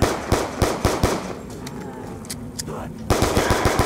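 Rapid automatic gunfire from Black Ops 2 Zombies, loud and close, in quick bursts that pause midway and then resume at the end.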